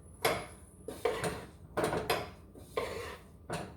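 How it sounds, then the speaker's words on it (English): A utensil scrapes and knocks around a bowl of gluten-free pasta salad with olives, tomato, herbs, Parmesan and pepper, five separate clattering stirs in a loose rhythm, close and fairly quiet. "Now we have our cheese and our pepper in there. We need to stir."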